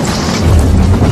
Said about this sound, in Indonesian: mobil itu malah meledak.